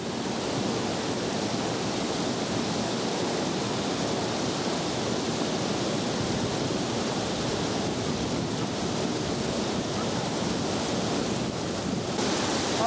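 Mabodil waterfall in the Philippines roars with a steady, dense rush of falling water, unbroken and fairly close, with no voices over it.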